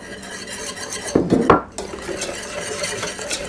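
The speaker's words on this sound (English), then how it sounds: "Now our butter is melted, we can add in our flour" Flour is whisked into a stick of melted butter to start a roux for Thanksgiving gravy: a quiet steady sizzle with a burst of scraping, clinking whisk strokes against the pot in the middle.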